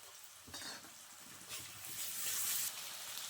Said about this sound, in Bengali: একটু পানি দিয়ে ভালোভাবে কষিয়ে নেব মশলাটা।